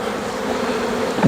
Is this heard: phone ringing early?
no